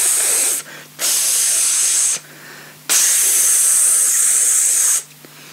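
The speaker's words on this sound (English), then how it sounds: "the lady with the bug spray" Loud bursts of bug spray aerosol hissing, three long sprays separated by short pauses, close to the listener.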